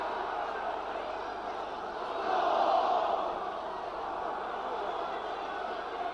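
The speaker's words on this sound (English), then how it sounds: "Crowd appealing for handball there," A football crowd at Burnley v AFC Bournemouth in 1993 roars in appeal for a handball, a broad distant swell that rises for a moment and then settles back into steady crowd noise.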